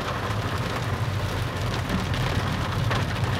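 Heavy rain drumming on the sunroof of a Proton S70 Flagship X, a dense continuous hiss and patter heard from inside the car, steady and fairly loud with a low road rumble beneath.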